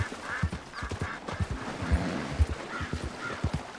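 A horse's hooves clip-clop at a steady walking rhythm in the Red Dead Redemption 2 video game, close and moderately loud, with a soft snort or whinny partway through.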